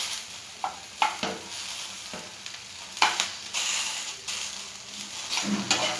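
Food cooking in oil in a pan, a soft sizzle broken by intermittent spatula scrapes and taps close by.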